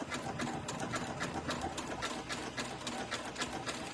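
A sewing machine runs decorative stitches along an exposed zipper, giving a quiet, rapid, evenly pulsing mechanical chatter throughout with no voices.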